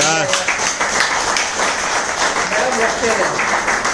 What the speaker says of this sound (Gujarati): યસ, મેડમ માટે જોરદાર ક્લેપિંગ.